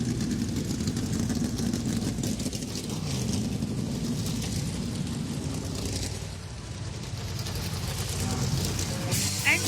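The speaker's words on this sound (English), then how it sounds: "Engines fired up." NASCAR stock car engines rumble at idle at Daytona for the Duels, a dense, steady low roar from many cars filling the whole stretch, with a voice talking over it.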